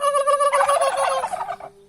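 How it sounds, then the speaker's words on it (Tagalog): Three male turkeys gobble in a loud, close burst of rapid warbling calls lasting a couple of seconds, with no talk. "3 barakong pabo yan."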